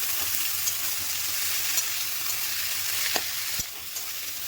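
Bottle gourd greens fry in a pan with spice paste and grated coconut, giving a steady close sizzle broken by a few sharp clinks and stirring knocks.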